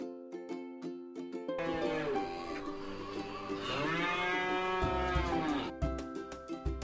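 One long, loud cow moo rises and falls over several seconds, with cheerful background music before and after it.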